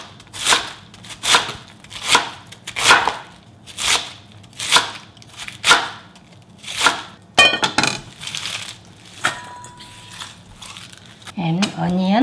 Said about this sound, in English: I'm going to cut this.